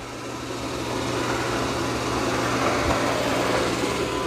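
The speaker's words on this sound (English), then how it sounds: "Mopping only, lifts the brush roller, and no vacuuming." Dreame X40 Ultra or Eufy S1 Pro robot vacuum running in mopping-only mode with the brush roller lifted and suction off, giving a steady, close, continuous motor whir with a low hum and no pauses.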